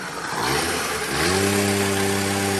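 A Yamahopper with nitrous, its small engine revving hard at full throttle, climbing in pitch, then holding a steady high-revving drone, loud and close with no talk.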